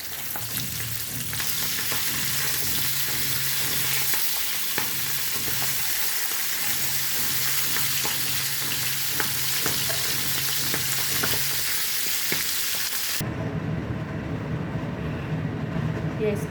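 Pabda fish frying in oil in a pan, giving a loud, continuous sizzle and crackle that holds steady, then shifts in tone near the end.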